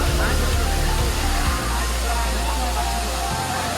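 Continuous roar of the Manche waterfall in Devgad, Konkan, a dense rushing wash that stays steady throughout while a voice talks over it nearby.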